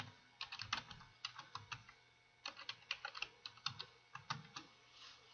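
Steady typing on a computer keyboard, two bursts of quick, light key clicks with a short pause between them, close and fairly quiet with no talking.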